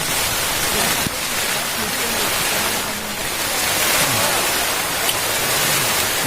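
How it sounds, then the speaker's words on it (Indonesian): Strong wind and heavy rain of a mountain storm on Mount Sindoro, a loud continuous hiss and roar with gusting surges, close to the microphone. "Angin kencang, hujan, kabut,"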